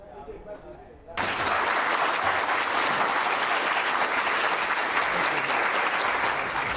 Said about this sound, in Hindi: तालियों की गड़गड़ाहट के बीच स्वागत किया गया